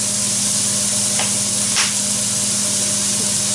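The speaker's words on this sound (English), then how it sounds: "I'll let those saute." Ingredients for shrimp and grits sautéing in a pan, a steady loud sizzle and hiss with a couple of brief sharper spurts of crackle, constant throughout and without talk.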